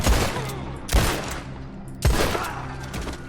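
Gunfire in the video game Red Dead Online, with three loud, close shots spaced about a second apart, each followed by a long echoing tail.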